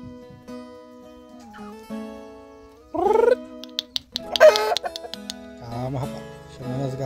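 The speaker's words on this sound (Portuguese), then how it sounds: "Cadê o galo? Olha o galo" Rooster and hens on a small rural farm, with short bursts of clucking and squawks, mostly mid-clip, against a quiet background and some brief, faint voices.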